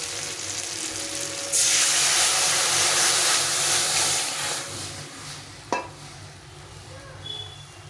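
Mustard-seed rinse water poured into a pan of frying turmeric for a thin mustard fish curry, bursting into a loud, steady sizzling hiss that swells suddenly and then slowly fades, with a sharp utensil clink near the end.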